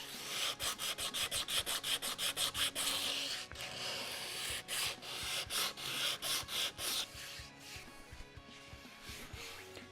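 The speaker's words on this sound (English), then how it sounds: "We're going to clean this up with sanding all the way around." Hand sanding the body of a guitar under construction, a run of quick rhythmic rasping strokes followed by steady scrubbing with short pauses, close and fairly loud.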